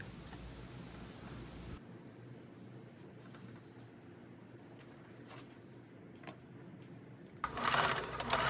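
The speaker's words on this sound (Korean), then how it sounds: "여기를 고정 스티치를 해 놓습니다" A sewing machine runs steadily at close range, stitching down a pleat on the sleeve of a linen shirt blouse, a fast even whir that stops briefly and then returns louder.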